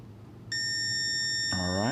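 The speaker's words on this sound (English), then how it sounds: "I heard another beep right there." Kwikset Aura smart lock sounding a beep while syncing with its app: a clear, close electronic tone that starts abruptly and holds steady, ending as a person begins speaking.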